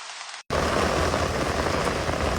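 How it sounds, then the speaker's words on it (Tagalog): Heavy rain pounds down in a dense, steady roar after a brief silent gap at the start, loud and continuous with no voices over it. "The rain isn't joking anymore."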